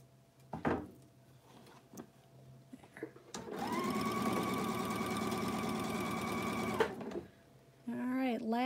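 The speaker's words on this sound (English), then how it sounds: "Then I need to cut this off so I can sew on the other side." A sewing machine runs a steady stitching burst for about three seconds while sewing a seam on a flying geese quilt block, with a voice talking before and after it.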